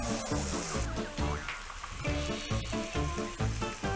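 Chicken piccata cutlets fry in a pan, a steady crackling sizzle running throughout, blended with some low rhythmic background tones.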